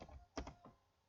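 Several quick keystrokes on a computer keyboard, a cluster of soft clicks followed by one fainter tap, quiet and close with no voices.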